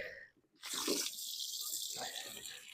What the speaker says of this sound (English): The water's overflowing.